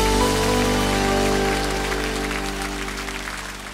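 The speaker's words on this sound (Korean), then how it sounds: "우리 하나님께 영광의 박수 올려드리니다" A church congregation claps through a Sunday worship service in Korea, a steady wash of applause that fades slightly, with sustained music tones running underneath.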